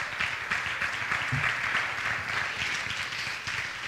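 Audience members clap their hands together at a group gathering, a steady, fairly loud patter of applause that holds evenly throughout.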